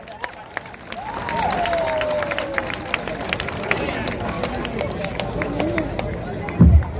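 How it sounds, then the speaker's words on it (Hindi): Clapping and crowd murmur fill a hall as an audience welcomes a guest to the dais, with a voice speaking over the applause and a loud thump near the end. "तालियों की गड़गड़ाहट से इनका इस्तकबाल करें"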